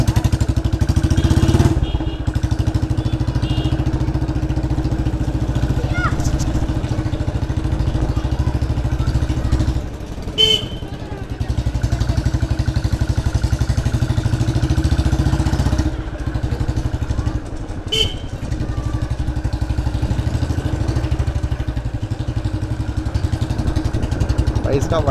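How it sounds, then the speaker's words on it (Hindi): A Royal Enfield Bullet motorcycle with a loud aftermarket exhaust idles close by in a steady, throaty low thump for the whole stretch, with brief dips. A voice talks over it at moments. "बहुत लाउड है भाई, इतना लाउड है कि भाई पब्लिक देखती है और गाली देती है।"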